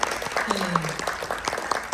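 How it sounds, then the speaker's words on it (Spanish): A small audience applauds students after their classroom presentation, a brief, fairly soft patter of clapping under a voice. "un aplauso a estos jóvenes"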